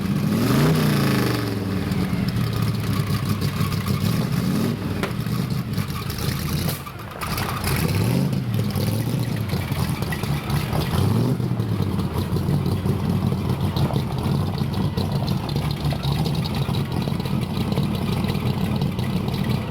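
Hot rod engine running rough with dead spark plugs, a loud, close, continuous uneven drone broken by irregular pops and a brief dip midway, with no voices over it.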